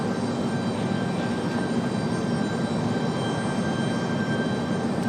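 A Delta airliner arriving at Raleigh-Durham airport sends out a steady, fairly loud engine roar with a thin constant whine on top, even and unbroken throughout with no voices.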